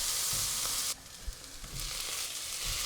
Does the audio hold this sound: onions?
yes